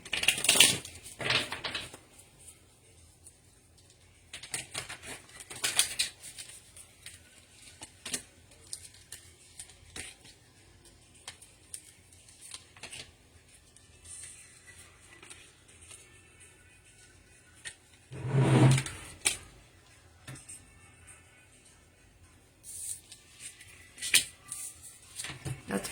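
Tarot cards are shuffled close by in bursts of soft riffling and crisp clicks, separated by quiet pauses, with an occasional louder shuffle.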